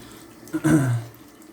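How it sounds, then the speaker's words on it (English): Water is poured over a silicon carbide–flattened sharpening hone to rinse off grit: a short splashing gush lasting about half a second, fairly close and moderately loud, over faint background hiss. "Some water. Let's try to get whatever we can off."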